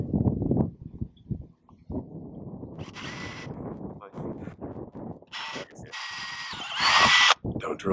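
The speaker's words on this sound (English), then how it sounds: "I'm gonna drill the first hole." A power drill whines in bursts while drilling a hole on a sailboat, rising to loud high-pitched grinding as the bit bites in, with clattering handling noise between.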